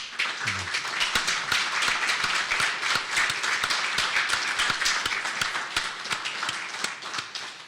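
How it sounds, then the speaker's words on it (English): Audience applause at the Edmund Fitzgerald remembrance ceremony, a dense, continuous crowd clapping for the Shipwreck Society staff, even and sustained throughout. "I'd like to give them a round of applause as well"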